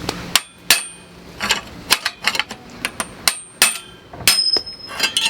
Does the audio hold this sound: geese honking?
no